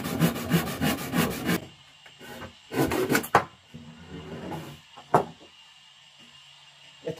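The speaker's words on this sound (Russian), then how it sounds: "с помощью ручной пилы, отрежем из этого полена чуть-чуть" Rhythmic rasping strokes of a hand saw cutting through a wooden log, close and loud, followed by quieter scraping and a few knocks.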